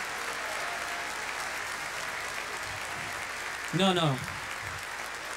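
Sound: audience applause at a men's conference

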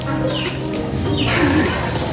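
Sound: pigeons cooing

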